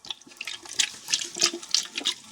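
Water sloshing and trickling inside a cracked Amway water filter housing, with water trapped between its walls; close, irregular gurgling splashes in short bursts, with no talking.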